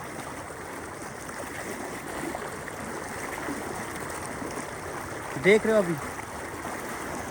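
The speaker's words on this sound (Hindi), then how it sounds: "ये खतरनाक सैलाब है, हमारे पाकिस्तान में आता है।" Dangerous floodwater rushes through a village in Pakistan, a constant close watery rush and gurgle running the whole time, while someone speaks over it near the end.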